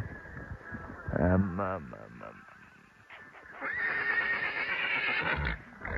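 A horse neighs loudly nearby at Rara Lake, Nepal, a short rising whinny, followed by a second longer whinny after a quiet pause.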